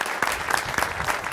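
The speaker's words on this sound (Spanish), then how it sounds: "Yo les voy a pedir un aplauso para ellos" A short burst of audience applause on a Spanish-language variety show, brisk and fairly dense throughout, with a faint murmur of voices under the clapping.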